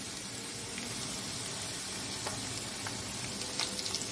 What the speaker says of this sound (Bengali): এখন একটু ভেজে নেব গাঠি কচুগুলোকে